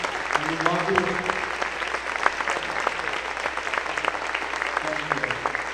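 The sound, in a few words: applause, standing ovation at basketball game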